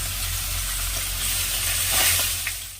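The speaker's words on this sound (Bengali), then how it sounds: "এই দেখো মাছের মুড়োগুলো ভাজা হচ্ছে এখানে" Fish heads frying in a pan give a steady, close sizzling hiss with faint crackles, rising slightly toward the end, with no talking.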